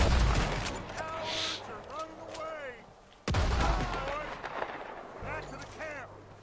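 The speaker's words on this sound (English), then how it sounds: "Ooh, I got my shotgun out." Shotgun blasts and heavy gunfire from the video game Red Dead Redemption 2 sound in loud booming bursts, with a sudden strong shot midway, while a person talks over the action.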